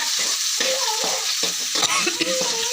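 Bottle gourd curry ingredients stirred and sautéing in a pan, with steady scraping strokes and a soft sizzle running throughout, close and continuous.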